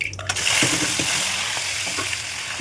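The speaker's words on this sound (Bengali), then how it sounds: "সব রেডি করে নিয়ে ভেজে নিচ্ছি কলার চিকলাগুলো" Banana peels fry with black cumin in hot oil for a banana-peel mash, giving a steady loud sizzle with brief stirring clatters throughout.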